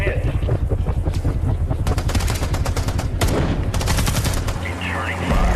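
Rapid automatic gunfire erupts in an action movie battle scene, loud and continuous bursts of shots with heavy low rumble, a voice briefly heard amid the barrage.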